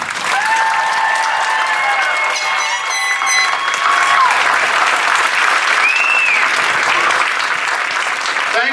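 Loud, sustained crowd applause at a high school graduation ceremony for the graduating class, with cheers and whistles rising above the continuous clapping.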